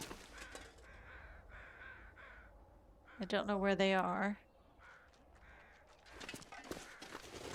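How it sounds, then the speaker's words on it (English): Crows caw in a short, loud burst of harsh repeated calls in the snowy wilderness of The Long Dark, standing out mid-clip while someone talks quietly before and after. "I hear the crows."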